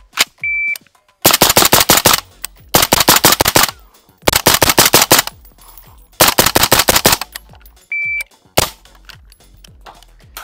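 A PSA JAKL rifle fitted with a Dead Air Sandman S suppressor fires several loud, rapid strings of shots close up, separated by short gaps and a couple of brief electronic beeps.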